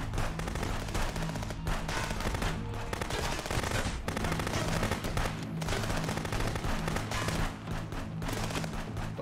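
Gunfire in the police game Contraband Police: a dense, loud, continuous stretch of shots and automatic bursts running for the whole span, with no talking over it.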